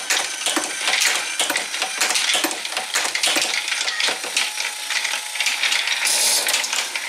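A Star Machine material feeder running steadily, with dense rapid ratcheting clicks and gear clatter at an even loudness throughout, no voices.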